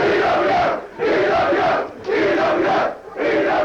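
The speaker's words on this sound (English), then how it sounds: "And the crowd is loving it." Wrestling crowd at an EWF event roars in repeated loud surging waves of cheering and chanting, each burst about a second long with brief dips between, full and close.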